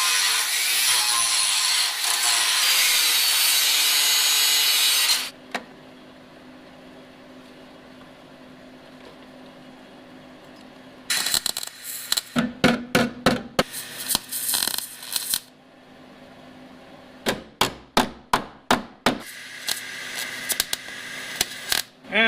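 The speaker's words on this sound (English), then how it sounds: "let's take this piece, we'll just take it over to the metal, trace it out, and cut it." Sheet metal being cut to a traced outline for a rear panel repair on a Chevrolet Cobalt SS, opening with about five seconds of continuous loud grinding, then a quiet pause and several bursts of short, rapid snipping or sawing strokes.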